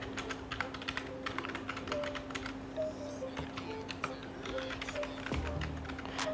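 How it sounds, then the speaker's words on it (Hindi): Quick, irregular clacking of keys on a computer keyboard as an email address is typed, close and steady for several seconds with a faint hum behind and no speech. "मैं ईमेल आईडी डाल लेता हूँ"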